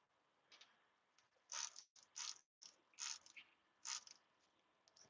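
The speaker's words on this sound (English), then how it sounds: "let me spray this." A spray bottle mists water onto black, blocky rock chunks in several short, hissy spritzes at an uneven pace. The bursts are faint and close, with soft trigger clicks between them.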